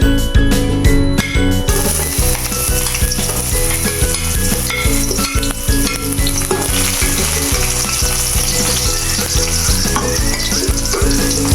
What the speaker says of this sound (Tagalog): Mainit na. Lagyan natin yung bawang.